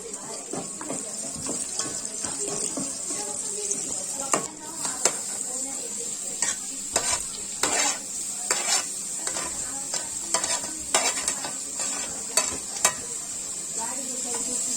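Garlic and onion frying in a pan, a constant soft sizzle broken by frequent sharp scrapes and clinks of a spatula stirring, close and fairly loud, with no one talking.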